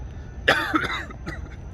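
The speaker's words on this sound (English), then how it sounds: "excuse me, I had to cough." One sharp, close cough, followed by a couple of softer throat-clearing sounds against a quiet background.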